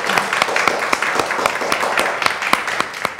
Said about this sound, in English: You did a good job. Let's clap.